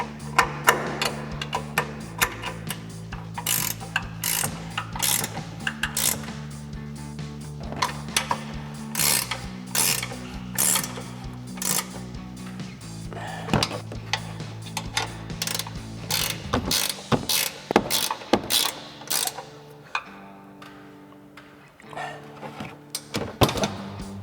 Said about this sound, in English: We'll grab our 15mm ratchet wrench and tighten these down.